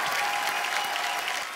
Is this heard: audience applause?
yes